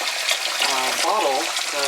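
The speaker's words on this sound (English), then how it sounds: "I'm just going to get some cold water on these boiled eggs." Cold water runs steadily from a tap onto boiled eggs, a continuous splashing rush close by, with a voice speaking over part of it.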